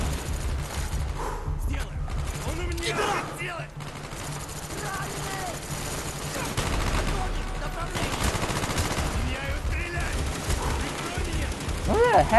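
Scattered gunshots and bursts of automatic fire in the video game Call of Duty Black Ops sound at moderate distance through a busy mix of game noise, with someone talking over it.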